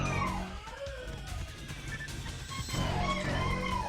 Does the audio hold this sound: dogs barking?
yes